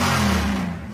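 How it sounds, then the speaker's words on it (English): A downloaded car revving sound effect laid into a pop rock track at the beat drop, a loud one-second burst of engine roar that fades slightly at the end. "And then I also downloaded a car revving sound effect and synced it up with the beat dropping."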